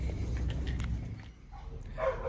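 Inside a farm and home supply store, a dog barks and yips faintly in the distance, a few short calls rising above low indoor room noise.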